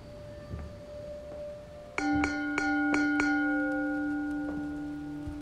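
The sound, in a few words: church bells ringing in the horror video game The Ten Bells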